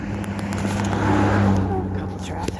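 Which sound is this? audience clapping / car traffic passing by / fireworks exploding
car traffic passing by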